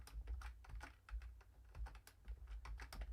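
Fingers tap quickly and unevenly on a computer keyboard, a close run of crisp clicking keystrokes with no voice.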